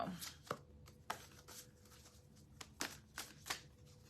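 Tarot cards being shuffled during a card reading, giving a run of close, crisp riffling and slapping bursts at an uneven pace, with no talking.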